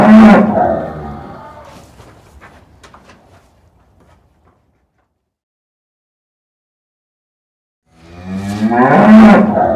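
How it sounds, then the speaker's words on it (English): A cow lows in two bouts, a loud, drawn-out moo opening the clip and fading into quiet, then a second strong moo rising near the end after several seconds of silence. "Cow is called Màálù in Yoruba. Màálù, Màálù, with a sound moo, moo,"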